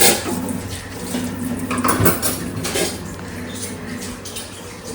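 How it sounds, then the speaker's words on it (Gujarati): Dishes, pots and pans clatter while being washed at a sink, with cutlery clinking and running water from a tap in a household kitchen, a steady mix of clanks and splashes up close. "નિર્વાબેન વાસણ સાફ કરતા શીખી ગયા"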